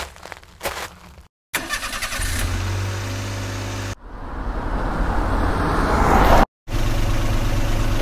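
A car engine starts and runs as the car sets off on an island trip, heard in loud bursts with a steady mid-pitched drone that swells as it pulls away, broken by brief silent cuts.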